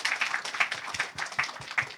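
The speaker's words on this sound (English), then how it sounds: "Please give a round of applause for all the panelists and for the participants today" An audience at a panel discussion gives a round of applause, a brief, fairly light patter of many hands clapping at middle distance with no talk over it.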